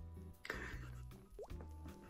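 A voice mimics a water drop sound, a quick rising plop, heard close over a steady background of game music and noise.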